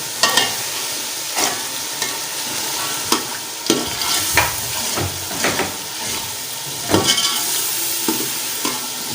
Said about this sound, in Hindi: सबसे पहले हम शामिल करते हैं मटर, ग्रीन मटर शामिल कर लेते हैं।